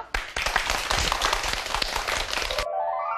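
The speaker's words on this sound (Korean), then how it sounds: "큰 박수로 강의 청해 듣죠?" A studio audience gives a round of applause to welcome a professor's lecture on postpartum weight loss. The clapping is brisk and close and cuts off abruptly near the end, when a soft tonal sting takes over.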